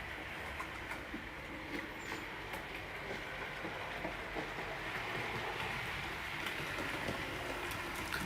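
A model railway locomotive runs along its track, giving a continuous soft rolling rumble with faint periodic clicks, steady and fairly quiet throughout.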